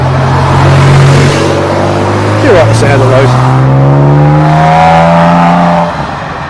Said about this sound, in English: I think there's a few cars leaving now. Porsche's going.